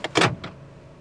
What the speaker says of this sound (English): That was just the door locks going.